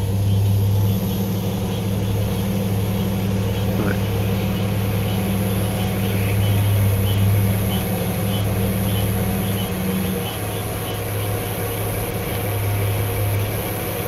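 A pickup truck driving on a road through the Everglades, a steady low engine rumble and road drone that holds loud and even throughout, with no talking.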